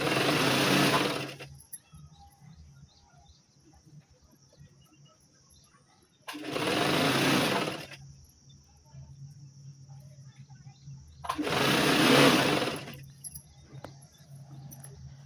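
A sewing machine stitches a saree fall in three separate loud, steady runs of about one to two seconds each, with quiet pauses between the bursts.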